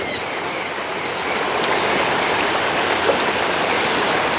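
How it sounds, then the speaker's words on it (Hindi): A stream flows along the trail to Sadhery waterfall in Samahni, a loud steady rush of running water close by that swells slightly partway through, with no talking. "यहाँ से पानी गुजर के आगे जा रहा है"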